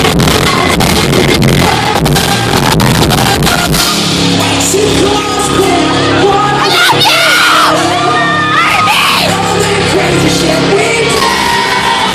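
A fan screams and whoops loudly at a concert, the shrill yells riding over a dense roaring crowd and the band playing throughout.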